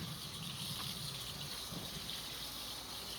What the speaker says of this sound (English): We're going to rinse these out some.